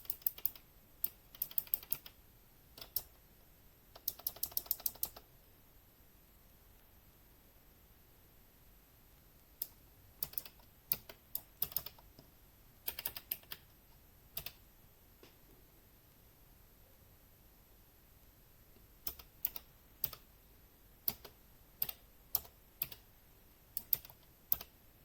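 Programming code is typed on a computer keyboard in scattered quick bursts of crisp key clicks separated by quiet pauses, close and soft against a near-silent room.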